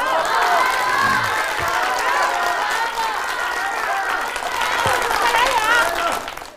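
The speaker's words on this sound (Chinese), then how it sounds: "是不是有人教你们怎么起哄" A studio audience at a comedian's storytelling show shouts, cheers and whoops in a noisy, continuous mix of voices and some clapping, fairly loud and close, fading at the end.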